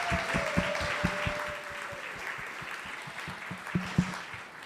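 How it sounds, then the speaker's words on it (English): A church audience at a Christmas service applauds a Christmas play, with a sustained wash of clapping and rhythmic low thumps, close and fairly loud. "Let's just give everybody involved a round of applause."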